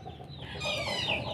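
A hen clucks close by, a short run of throaty, rising clucks over a quiet background.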